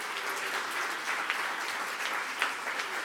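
Steady audience applause fills a gala hall at a regional business-creation awards ceremony, a dense even patter of many hands clapping at moderate distance with no speech over it.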